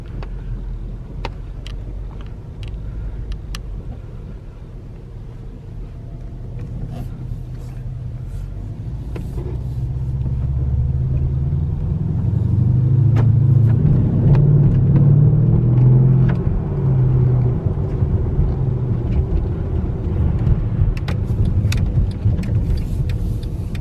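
A Mercedes CLS 550 V8 with a K&N drop-in air filter rumbles steadily in the snow, swelling to a louder, deeper rev in the middle before easing back to a steady idle-like drone.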